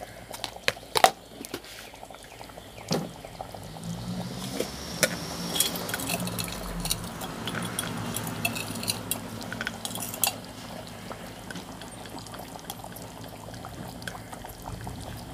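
Rosdee seasoning spooned into a pot while a Thai coconut curry with chicken feet cooks, with metal spoon scrapes, clinks and pouring granules against a faint simmering background, close and alone.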